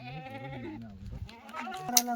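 Kathiawari goats bleat in a wavering, drawn-out way, several calls overlapping close by, with a sharper cry near the end; a voice may be faintly present.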